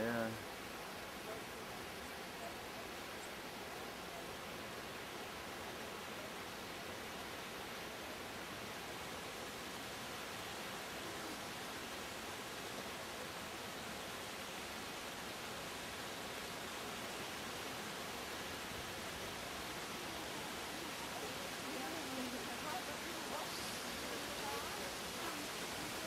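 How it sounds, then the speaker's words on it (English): A waterfall in California pours in a steady, even wash of broadband rushing water, constant and moderately distant, with no clear breaks or voices over it. "It's a beautiful waterfall."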